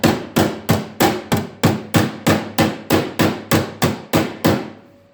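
Hammer blows shape welded sheet metal on a car floor pan, about thirteen loud, ringing metallic strikes at a steady, even rhythm, close up, before the sound fades out.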